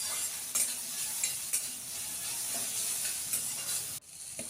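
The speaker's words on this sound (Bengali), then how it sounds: "তো এবার দিয়ে দিলাম পেঁয়াজ কুচি দিয়ে এবার খুব ভালো করে এগুলোকে একসাথে নাড়াচাড়া করে নেবো" Chopped onion fries in mustard oil with a steady close sizzle, broken by repeated scraping stirs of a spoon against the pan at a loose, regular rhythm.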